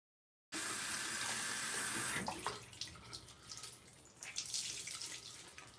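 Tap water runs steadily into a sink, starting abruptly and flowing loud and close, then thinning into splashing and dripping as hands rinse a bentonite clay, apple cider vinegar and turmeric face mask off.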